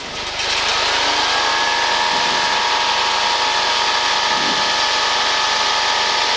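A light aircraft engine is pushed to full power just after touchdown, a steady loud drone with a high whine holding throughout, close and continuous, no speech over it.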